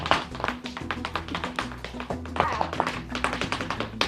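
Flamenco footwork in shoes with wooden heels and nailed tips makes rapid, sharp taps in quick irregular rhythms. The strikes are close and crisp over faint background music, and no one speaks.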